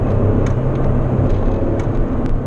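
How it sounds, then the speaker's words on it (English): Low steady engine drone and road roar from a MK2 Vauxhall Astra GTE 16v accelerating, heard from inside the car, continuous and fairly loud with faint ticks above, no voices. "I'm going to do a bit of accelerating past my high school"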